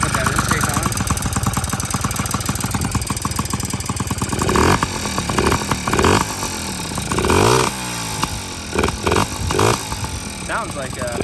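A Yamaha PW50 minibike engine runs with a loud, raspy intake, idling and blipping the throttle in short revs, close and prominent while voices talk over it.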